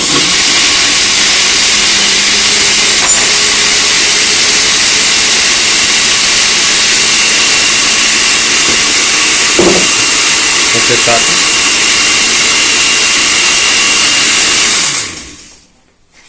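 A kitchen blender whips banana and milk in a loud, steady whir that runs close and continuous for about fifteen seconds before winding down and stopping.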